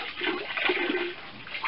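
Wet flannel squeezed out over a bucket of water, giving a short close splashing and trickling of dripping water with no talk.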